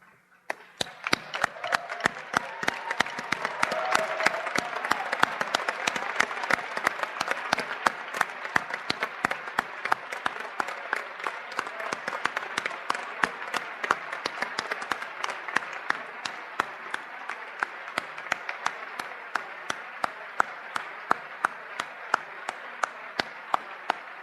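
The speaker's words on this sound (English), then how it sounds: "please join me in applauding those who made this milestone possible" Steady, dense applause from a large audience at a graduation ceremony, sustained evenly with crisp individual claps standing out, continuing for a long stretch without talk.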